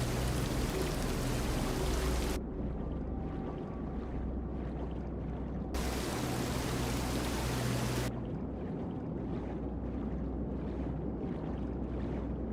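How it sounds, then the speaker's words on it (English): Rushing waterfall water in the fantasy video game Tainted Grail: The Fall of Avalon, a dense, continuous roar that switches between a bright full wash and a duller, muffled tone, like moving in and out of the stream. "we're just swimming up the waterfall"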